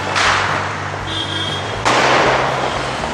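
Diwali firecrackers burst during a night of celebration in Ahmedabad, with two sharp, loud cracks about a second and a half apart over a continuous background hum.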